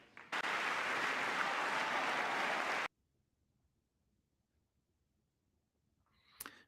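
A standing ovation at the State of the Union fills the first few seconds as a loud, dense wall of clapping, then cuts off abruptly into near silence with a brief noise near the end.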